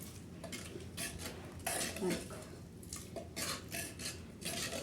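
A spoon scraping and clinking against a metal pot while dal is stirred on a stove, irregular close strokes with soft knocks and rattles, no talk.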